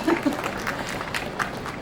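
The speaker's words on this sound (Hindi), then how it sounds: "देश के लिए तालियां, मेरे लिए नहीं प्लीज़" An audience at a Republic Day festival event in Mumbai applauds the country, scattered clapping that is fairly faint and spread across a crowd, with talk mixed in.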